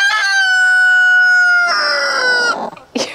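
A backyard hen near a nesting box gives a loud, drawn-out, close squawking call that wavers in pitch, followed by shorter clucks, with no talking.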